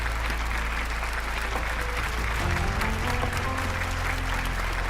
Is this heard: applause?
yes